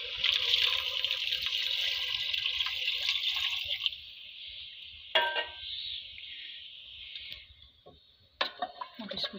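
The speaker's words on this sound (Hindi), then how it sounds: "अब पानी ऐड करूँगी।" Water poured into a pot of pea and turnip curry, a steady splashing, trickling pour for about four seconds, then quieter drips and a few sharp clinks and stirring sounds, close by with no talk.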